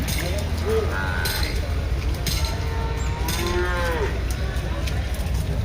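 At a busy buffalo market in Erragadda, Hyderabad, a buffalo calf gives drawn-out moos, with other cattle calling over a loud constant crowd and traffic din and some talking.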